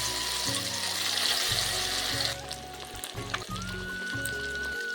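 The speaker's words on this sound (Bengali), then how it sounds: "বোনলেস চিকেনগুলো যে ম্যারিনেট করে রেখেছিলাম আমি একে একে দিয়ে ভেজে নিচ্ছি।" Pieces of marinated boneless chicken frying in hot oil give a steady hiss and crackle, with a soft rhythmic clatter underneath and a sharper burst of sizzling partway through.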